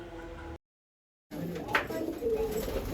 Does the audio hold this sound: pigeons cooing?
yes